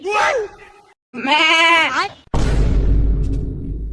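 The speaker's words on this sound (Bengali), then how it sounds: "ছাগল চিল্লাইছে নাকি রে?" A goat bleats twice in loud, wavering, close cries separated by a brief pause, followed by a burst of rough noise that fades out.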